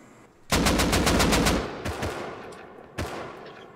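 AK rifle gunfire in the Rust video game, a loud rapid burst of automatic shots lasting about a second, followed by two more single cracks fading into echo.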